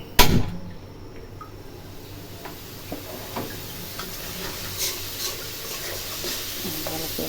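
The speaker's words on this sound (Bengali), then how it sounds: "একটু নাড়াচাড়া করবো।" A pan of sweet pumpkin curry with chili and shrimp is stirred. A sharp clank opens, then quieter scrapes and light taps follow over a faint sizzle.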